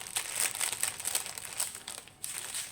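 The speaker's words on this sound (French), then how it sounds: "Désolée pour le bruit du papier." Paper crinkles and rustles close to the microphone in quick, crackly bursts with brief pauses between handlings.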